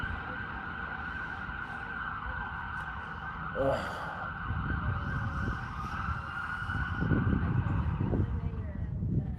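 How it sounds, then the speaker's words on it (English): A wailing siren sounds in the distance over city traffic rumble in Canada, holding a steady tone while vehicles pass nearby. "You'll always hear sirens no matter where you are."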